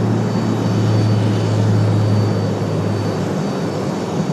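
An ATR turboprop airliner arriving at Raleigh-Durham from Wilmington gives a steady, moderately loud drone with a low engine hum that holds throughout, with no voices.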